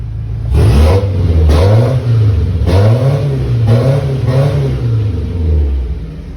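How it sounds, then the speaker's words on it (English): A Ranger pickup truck's engine revs repeatedly through a throaty exhaust, rising in four or five bursts and falling back to a deep rumble between them. "the exhaust sounds pretty good at idle. Here it is revving."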